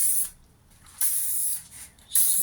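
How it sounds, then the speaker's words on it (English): Light spray bottle of isopropyl alcohol misted over wet paint on foam board for a marbled epoxy-style finish: three short, close hissing spray bursts separated by brief pauses, with no talk. "So just a very light spray."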